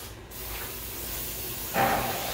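Airbrush spraying paint, with the flow adjusted by twisting: a steady, quiet hiss of air that briefly cuts out, then surges louder for a moment near the end, with no talking.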